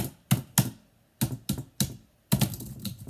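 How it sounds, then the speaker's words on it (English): Computer keyboard keys clack during video game play, a handful of sharp, close taps in an uneven rhythm with brief pauses between them and no talk. "So, spacebar, spacebar, spacebar. And shift, shift, shift. Click, click, click."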